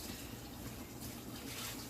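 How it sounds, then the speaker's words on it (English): Tap water runs steadily into a kitchen bowl while muffins are being prepared, a faint, even hiss and splash that continues without a break. "Let me put some water in my bowl."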